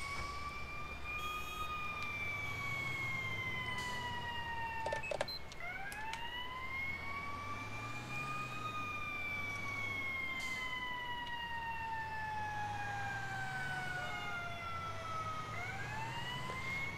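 A fire engine siren from the video game GTA IV wails steadily in long rising and falling sweeps over a low engine rumble, loud and continuous throughout, with a brief horn blast in the middle.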